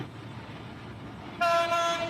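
A train on the Cox's Bazar railway line rumbles faintly, then a loud, sustained horn blast cuts in sharply about halfway through and holds to the end.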